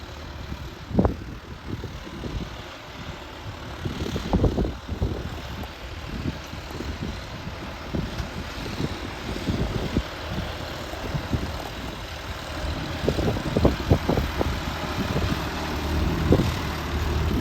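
A John Deere tractor working in 4x4 gear while pulling a fifteen-tine cultivator across a field, its engine a steady, fairly distant drone with rumbling bumps and gusty background noise throughout, no voices.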